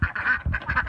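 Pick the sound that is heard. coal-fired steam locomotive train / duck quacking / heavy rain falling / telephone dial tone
duck quacking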